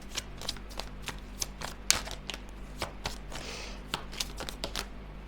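A deck of tarot cards is shuffled by hand, giving a steady run of crisp riffling snaps and soft flutters, close and fairly quiet, with no voices.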